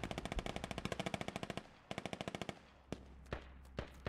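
Automatic gunfire in a video game squad operation, rapid evenly spaced bursts of loud shots, a pause, another burst, then a few single heavy shots spaced apart.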